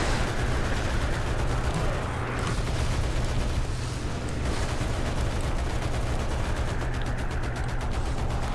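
Continuous dense gunfire from .30 cal and .50 cal machine guns in the War Thunder tank-versus-planes game, a steady loud rattling barrage with booming low rumble throughout, no pauses.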